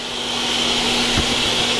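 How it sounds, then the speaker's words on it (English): A dust-extraction vacuum on a CNC router in a workshop roars steadily with a constant loud whoosh and a steady hum underneath, running alone without speech. "Vacuum hose hooked up, that sucks up all the dust."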